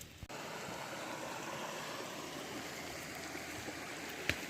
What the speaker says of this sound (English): we got a nice little creek here